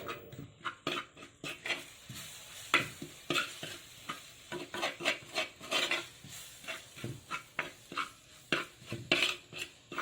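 A spoon stirs chili powder roasting with masala in a pan over a low flame for beef perattu, a steady run of close scraping strokes over a soft sizzle, with no voices.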